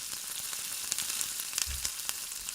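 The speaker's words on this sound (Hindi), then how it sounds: "तो अब टमाटर को भी मैं थोड़ी देर के लिए भूनूंगी ताकि ये थोड़े सॉफ्ट हो जाएं" Finely chopped tomatoes frying with garlic and ginger in a pan for dhaba-style mash daal, a steady close hiss of sizzling with light crackles and a brief low stir near the middle, with no talk.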